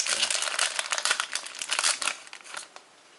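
A Match Attax 17/18 card pack is torn open with close, crackling foil crinkles and ripping bursts in quick irregular succession, tapering off toward the end.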